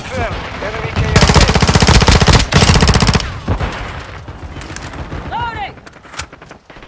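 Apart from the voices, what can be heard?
gunfire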